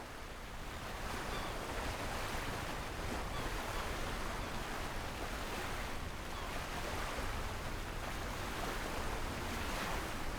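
A sailboat in the Sailaway II sailing simulator moving over the sea off Minehead on a Cardiff to Poole passage, a steady loud wash of waves and wind rushing continuously with no breaks.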